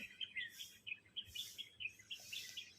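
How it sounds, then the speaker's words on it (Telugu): Small birds, sparrows and parakeets, chirp repeatedly at dawn outside a village home, a steady run of quick bright tweets at moderate distance with no talking. "వినిపిస్తుంది కదా చిన్న చిన్న బర్డ్స్ సౌండ్ అరుస్తూ ఉన్నాయి"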